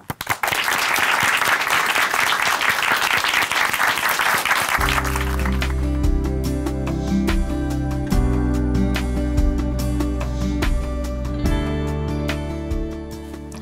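A church audience applauds to welcome Sister Lee Kyung-hee of Chuncheon Hanmaum Church, a dense crackle of clapping that holds steady as a soft organ or keyboard chord swells in underneath and carries on.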